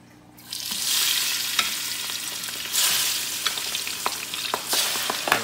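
Lechon kawali pork frying in hot oil, a loud continuous sizzle that swells in waves with sharp popping splatters scattered through it, no talking.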